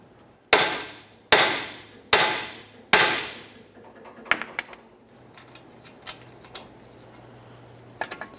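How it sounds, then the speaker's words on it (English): Hammer striking the steering knuckle of a Toyota Sienna during a front lower ball joint replacement: four sharp, ringing metallic blows at an even pace, then lighter scattered taps and clinks. "I'm going to use my hammer, cause some light vibration along the knuckle itself."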